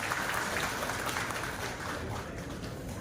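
Steady, dense applause from an audience at a Metal Mines Safety Week ceremony, sustained clapping from a sizable crowd throughout without any clear talking.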